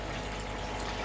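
An Oase pond filter pump bubbles water quietly, with steady, faint low gurgling and trickling throughout and no talk.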